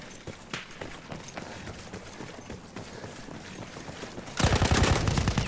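Gunfire in Battlefield 1, a World War I shooter, with scattered shots and distant battle noise, then a loud burst of rapid close-range automatic fire in the last second.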